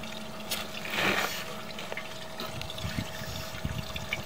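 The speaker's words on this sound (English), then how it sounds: "flush it one more time and then shut everything off" Residential toilet flushes with a short rushing surge of water, then settles into softer trickling and gurgling as the tank refills during a sewer inspection.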